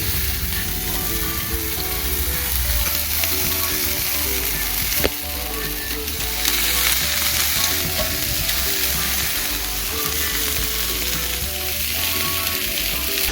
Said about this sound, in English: the last thing you want to cook is the gammon and the minute steak